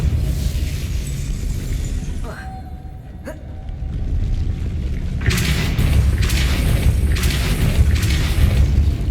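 Explosions from the Confringo blasting spell in Hogwarts Legacy: a sharp pop a few seconds in, then louder, broader bursts and rumbling blasts crowding the second half over a constant game soundscape.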